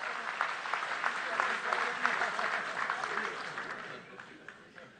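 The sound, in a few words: audience applause at political speech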